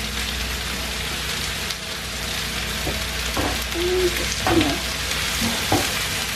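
Chipolata sausages sizzle and spit in a frying pan, a steady hiss of frying with occasional sharper pops and crackles, fairly close and with no talking.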